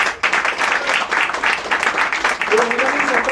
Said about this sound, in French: On peut t'applaudir aussi